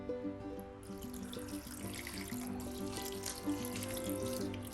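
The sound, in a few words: water being added to long beans and prawns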